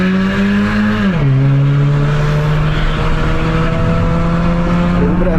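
Honda Civic 2.0 with a naturally aspirated engine and a workshop-made exhaust diffuser, revving loudly and steadily, its pitch dropping briefly at about one second then holding a strong, continuous drone throughout.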